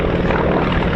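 Beech propeller aircraft of a display team make a final low pass over an airfield, a brief, loud, dense buzzing drone of engines and propellers filling the moment.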